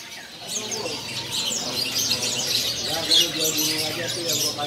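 A mass of caged canaries at a bird market kiosk keeps up a continuous bright chirping, with occasional cooing and wing flutters mixed in. A low murmur of voices sits beneath it.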